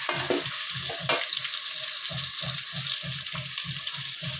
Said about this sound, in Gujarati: જ્યાં સુધી ટમેટા સકળાઈ જાય, જ્યાં સુધી તેલ ન છોડે ત્યાં સુધી એને આપણે પકાવીશું ટમાટરમાં